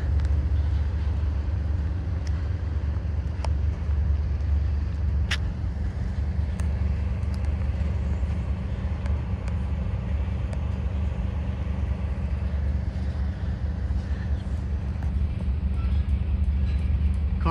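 Freight train M427 creeping through West Springfield yard, a steady heavy low rumble that holds evenly throughout with faint metallic clicks above it.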